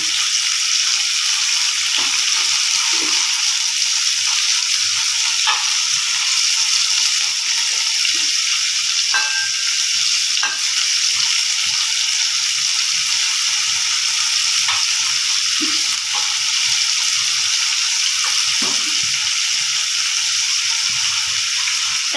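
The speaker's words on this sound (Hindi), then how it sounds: "एबे सेथिरे मिक्स करि रखिथिबा चिंगुड़ी माछ को दे दबा भल भाबरे भाजी नेबा।" Prawns frying in hot mustard oil for a pumpkin prawn curry, a steady loud sizzle throughout with occasional faint clinks and stirring scrapes, no voices.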